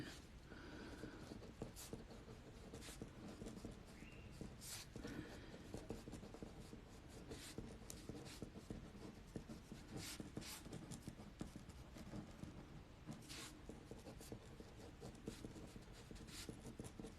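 A pen writes on paper, close and quiet, with continuous scratchy strokes broken by short pauses and taps.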